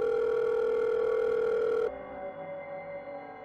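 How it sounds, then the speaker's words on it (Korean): Telephone dial tone used as a sound effect in a Korean horror radio drama: a loud, steady continuous tone held for about two seconds, then cutting off into a quieter line hum. "전화를 걸었습니다"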